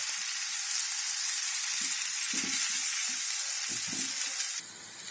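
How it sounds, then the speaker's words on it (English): Mango pieces fry in a pan for mango thokku pickle, a steady close-up sizzling hiss with occasional soft stirring sounds and no speech. "Fry for a few minutes until the mango gets soft."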